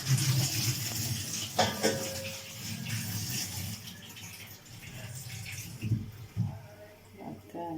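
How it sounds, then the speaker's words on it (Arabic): Water running from a tap as tomatoes are washed in a sink, a continuous splashing rush with soft knocks and handling noises, close by. "نغسل بقى الطماطم"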